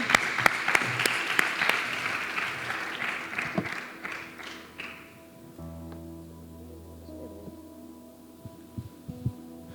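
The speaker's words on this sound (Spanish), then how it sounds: "Un aplauso al hermano." Church congregation applauding a man called up to speak at a Bible summary event, loud clapping for several seconds that fades out, followed by quieter room hum.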